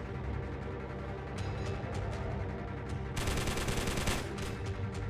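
Aircraft machine gun fire in the flight combat game 303 Squadron: Battle of Britain, a fast chattering burst over a constant engine drone, with a denser stretch of fire near the end.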